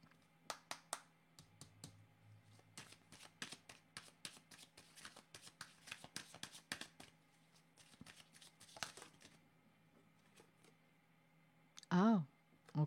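Oracle cards are shuffled and drawn in a quiet room, with soft, irregular riffling and card-slapping clicks spread across the moment, then a brief louder rustle near the end.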